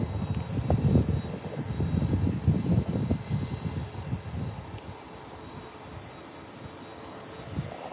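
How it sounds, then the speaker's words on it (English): A Neos Boeing 737 cargo jet at Birmingham airport sends out a steady, broad engine roar that is loudest at first and slowly eases off, heard from a distance with no voices. "Looks like a 737 cargo."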